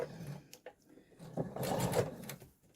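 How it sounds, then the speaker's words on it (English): A sewing machine back-stitches a quilt patch in a short, close whir that builds to a busy run before stopping, with faint taps and rustles around it. "I usually back stitch at the beginning and end."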